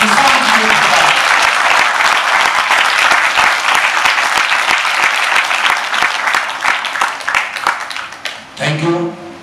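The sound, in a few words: audience applauding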